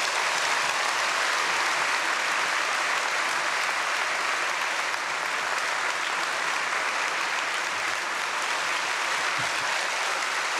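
A church congregation at a Wednesday prayer service applauds steadily to welcome a pastor, a dense sustained wash of clapping hands at an even level throughout.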